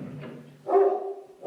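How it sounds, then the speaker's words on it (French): A neighbour's dog gives a short bark or yip while being taken down the stairs for a walk, heard once clearly and nearby after a muffled lead-in, with the start of another at the end. "C'est le voisin qui descend promener son chien."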